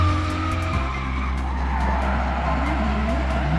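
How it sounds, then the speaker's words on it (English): A Nissan S15 and a C33 Laurel drift at a motorsport event, engines droning loud and close with tire squeal and shifting revs running throughout. "at S15, followed closely by Zahir Rahimullah from Drift Cartel in that C33 Laurel"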